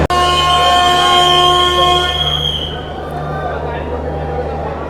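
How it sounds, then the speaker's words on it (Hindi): The Yuva Express pulls out of Bandra Terminus with a loud, sustained train horn that holds for about two and a half seconds and then fades, leaving a steady low rumble from the moving train. "हम डिपार्ट कर चुके हैं बांद्रा टर्मिनस रेलवे स्टेशन से अपने शेड्यूल टाइम पे 5:30 पे"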